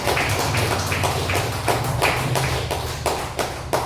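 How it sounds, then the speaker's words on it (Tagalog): A church congregation gives loud applause during a Filipino worship service. Dense, close clapping fills the space throughout, with rhythmic bursts of hands and a low rumble beneath. "Malakas na palakpak"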